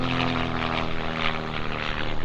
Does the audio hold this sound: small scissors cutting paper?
no